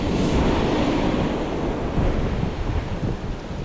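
Ocean surf washes steadily onto the shore beside a fishing line, a loud, continuous roar of breaking water mixed with wind buffeting the microphone, with no voices.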